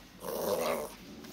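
A grumpy dog gives one low, close growl, rising and fading over about a second in a quiet room, with no talking over it.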